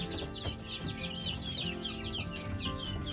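A dense chorus of young hens and chicks, including Sabelpoot chickens, clucks and chirps continuously in a coop, many birds calling over each other at close range over a steady background hum.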